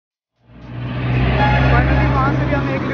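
Road traffic in Aliganj, Bihar: a motor vehicle engine rises from silence into a loud, steady, close roar with a droning hum that holds to the end.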